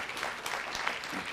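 An audience at a city council meeting applauds the emergency manager, a soft, steady wash of many hands clapping at a distance, fairly faint and even throughout.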